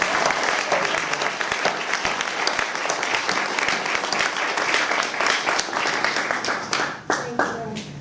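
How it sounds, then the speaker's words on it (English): An audience at a poetry reading in the Lane Writers Reading Series claps steadily and densely throughout, a full even round of applause that thins slightly toward the end. "So a round of applause."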